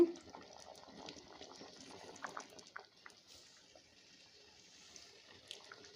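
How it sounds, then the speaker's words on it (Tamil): A pot of curry bubbles on after the stove is switched off, quiet irregular blips and pops over a low background. "அடுப்பு ஆஃப் பண்ணிவிட்டேன் இருந்தாலும் வந்து குழம்பு பாருங்கள் கொதிச்சிட்டே இருக்குது"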